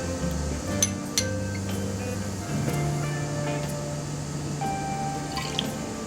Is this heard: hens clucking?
no